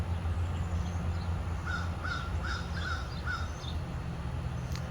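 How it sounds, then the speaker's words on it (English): Crows caw outdoors in Texas during the change of seasons: a run of about five harsh calls from mid-distance over steady ambient background noise. "this is a time where the crows are going to be more active"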